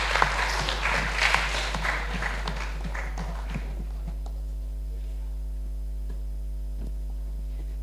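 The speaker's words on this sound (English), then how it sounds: "Give them a big round of applause," Audience applause at a prize giving ceremony, brief clapping that fades out after a few seconds and leaves a loud steady mains hum with occasional footsteps.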